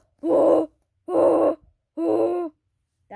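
A person imitates a koala with three deep, groaning grunts, each about half a second long, loud and close with short pauses between.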